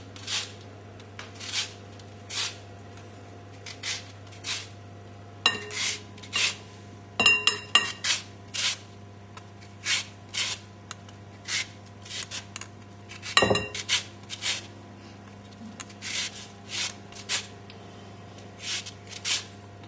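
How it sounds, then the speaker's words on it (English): Lemon rind is rubbed on the finest side of a grater in a run of short, rhythmic scraping strokes with small pauses, close and fairly quiet, with occasional louder knocks of the grater. "So just using the finest side of a grater or one of these little machines if you've got them"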